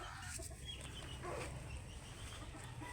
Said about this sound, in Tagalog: Ako po ay nakapagpatukanan ng aking mga manok